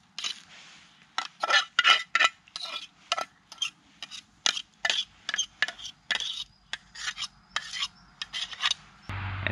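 Repeated scraping strokes of a utensil stirring food in a one-litre metal pot filled almost to the brim, irregular bursts with brief pauses, close and clear, ending with a dull knock.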